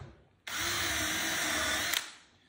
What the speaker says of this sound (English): so I'm going to put another screw in up here.